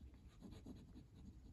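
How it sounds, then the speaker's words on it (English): Ellington Stealth fountain pen with a fine nib scratching across paper in a short, continuous run of soft strokes, close and quiet, with no talking. "So what I'll do is I'll write down here"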